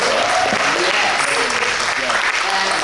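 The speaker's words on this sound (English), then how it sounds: "Y'all just gotta clap it up for that." Loud, dense applause from an audience at an arts and social change event, a continuous roar of many hands clapping close by for the full stretch, with cheering voices mixed into it.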